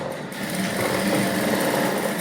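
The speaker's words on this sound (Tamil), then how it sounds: "இப்போ மெயின் துணியோட நல்ல பக்கத்துல இதை வச்சு நம்ம வந்து ஒரு தையல் போட போறோம்" A sewing machine runs a steady, close stitch along the right side of the main fabric for a princess-cut blouse, a continuous, fairly loud mechanical whir with no pauses and no voices.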